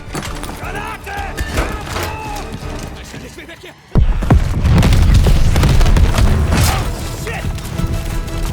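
A grenade explodes in the Call of Duty game with a sudden loud boom partway through, followed by a dense rumbling roar of blast and battle noise. A voice is heard before it.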